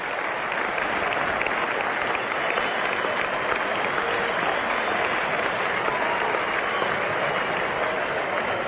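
Steady, dense applause from a large cricket crowd at an Australia v West Indies Test match, loud and continuous, acknowledging a batsman's half century.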